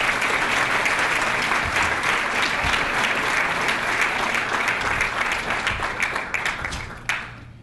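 An award ceremony audience applauds in a dense, sustained wash of clapping that holds steady before thinning and fading near the end.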